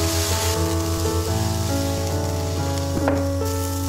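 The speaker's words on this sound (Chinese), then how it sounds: "加入番茄、食盐炒出汁， 加入适量的清水煮开。" Water added to a pan of stir-fried tomatoes and salt, with a steady close sizzle and bubbling as the liquid heats, plus a few light utensil knocks.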